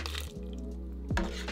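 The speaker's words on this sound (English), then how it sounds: "I'm gonna start transferring everything into our glass blender here, just little by little" Ingredients for Cawl Cennin, a leek soup, being moved little by little into a glass blender, giving a few close clinks and knocks against the glass with a low hum underneath.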